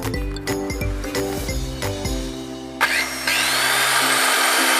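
A 1,050-watt circular saw spins up with a rising whine and runs steadily, loud and close, after several sharp clicks and knocks.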